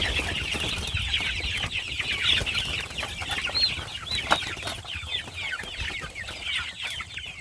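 A big flock of young chickens in a brooder, about to go out to pasture, clucking and peeping steadily throughout, close and dense, with a constant chatter of many birds and no talking.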